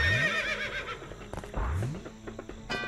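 A horse neighs in the LEGO Scooby-Doo video game, a loud wavering whinny up front followed by a second shorter whinny and thudding game effects, with no speech.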